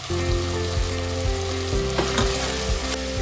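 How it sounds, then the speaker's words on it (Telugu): Mutton keema frying in a pan with fried onions stirred in, a loud continuous sizzle with scraping stir strokes recurring roughly every half second, close up and without talk. "ఇప్పుడు ఈ ఫ్రై అయిన దాంట్లో కొంచెం మనం ఇందాక ఆనియన్స్ ఫ్రై చేసుకున్నాం కదా ఆనియన్స్ అయితే కొంచెం వేసుకుందాం"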